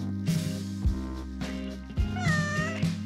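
A cat meows a few times inside a maze built from water bottles, short close calls with a rising, whining tone, with soft rustling between them and no talking.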